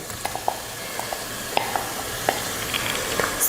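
Prawns frying in masala for a prawn biryani, a low steady sizzle broken by a few sharp clicks of stirring and scraping in the pot, moderately quiet with no voices.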